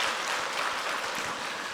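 Dense, steady applause from a church congregation during a Sunday service, a continuous wash of many hands clapping together without pause.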